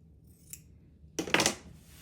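Scissors trim quilt fabric near a sewing machine, one faint snip followed by a louder, crisp double cut, close up and with no talking.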